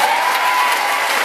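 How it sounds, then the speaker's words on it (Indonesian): An audience at a live talk show in Palu, Sulawesi bursts into applause, a dense, even wash of clapping from many hands that holds steady and loud for the whole moment. "Gak harus sampai tepuk tangan juga sih"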